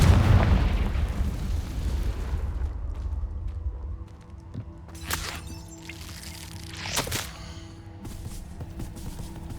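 A Confringo blasting spell explodes in Hogwarts Legacy with a loud, broad boom that rumbles and decays over several seconds, followed by a few sharp cracks and crackling debris sounds.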